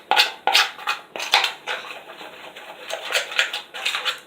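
Homemade slime with wheatgrass stirred in a container, a series of wet, sticky squelches and clicking scrapes in quick uneven bursts, close and fairly quiet.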